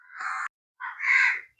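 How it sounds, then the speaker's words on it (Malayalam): Crows caw twice in close succession, loud and harsh against an otherwise silent background, the second call longer and rising in strength. "അവിടെയൊക്കെ കാക്കകൾ വന്നിരിക്കുന്നു."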